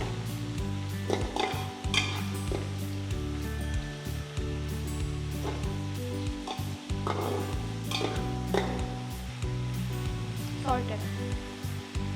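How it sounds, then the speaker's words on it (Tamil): Onions sauté with green chili and garlic for chicken mandi biriyani, cooking until golden brown, with a continuous loud sizzle and frequent stirring scrapes under a steady low hum. "இது இந்த வெங்காயம் ஃபுல்லாக பொன்னிறமாக ஆகிற வரைக்கும் ஃபுல்லாக வதங்கணும்"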